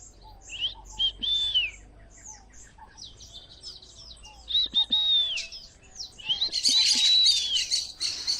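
Birds chirp and whistle in short, clear bursts with pauses between them, set in a quiet backyard, and the calls grow denser and brighter toward the end.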